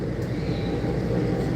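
Continuous low rumble of a train heading to Penn Station, steady rolling noise filling the space with no break and no voices.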